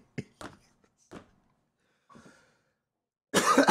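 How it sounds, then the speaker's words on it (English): Several separate coughs from one person, a few sharp bursts spaced irregularly, then a louder, harsher cough at the end, close and alone without talk. "So a little update on my cough."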